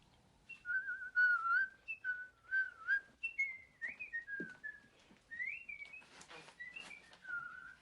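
Someone whistles a wandering tune softly, with warbling, birdlike trills and slides between notes, no talking.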